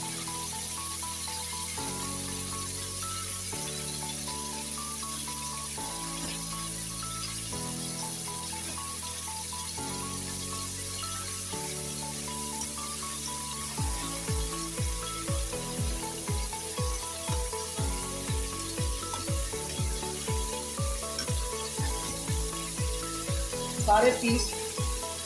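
Chicken pieces frying on medium heat for Afghani karahi, a constant sizzle under a steady music bed, with a run of rhythmic stirring or turning scrapes near the end.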